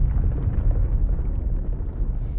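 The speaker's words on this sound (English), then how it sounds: "Who's setting off such loud fireworks in the city?" Loud fireworks booming in a city during the video game The Weeping Swan: Ten Days of the City's Fall, heavy low-end blasts merging into a continuous rumbling roar with no clear gaps.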